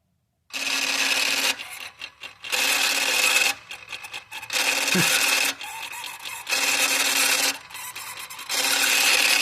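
A stripped-gear wastegate actuator on a Hyundai/Genesis turbo engine, driven by a scan tool, grinds and rasps loudly in repeated bursts with short gaps, close up and with no voices.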